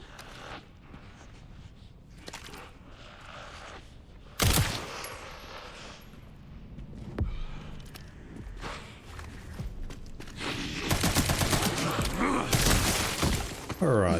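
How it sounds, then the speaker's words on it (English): Machine gun fire aimed at charging zombies in the Resident Evil Requiem video game, with loud broadband bursts and a sharp crack around the middle, heavier sustained firing near the end, and a voice talking over parts of it. "I fired my machine gun a lot of times at charging zombies"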